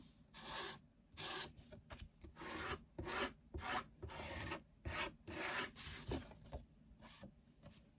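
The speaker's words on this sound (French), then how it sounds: "je vais simplement passer, comme je vous ai déjà montré, ma petite lime." A small file rasps back and forth along the edge of a paper card in a steady rhythm of about a dozen short, close, scratchy strokes, with no talking.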